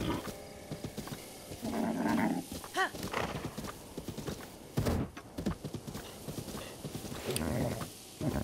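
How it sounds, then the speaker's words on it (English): Horse hooves clip-clop in The Legend of Zelda: Breath of the Wild, a steady run of hoof beats with a whinny and other game sounds mixed in, fairly close and moderately loud. "If I want my horse to come with me"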